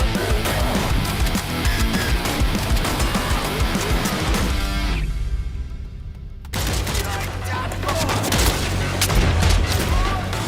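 A rhythmic indie video game called BPM Bitcrushed, where the guns fire in time to the music. Dense, rapid bursts of gunfire and booms run almost the whole time and pause briefly partway through. A voice speaks over the mix.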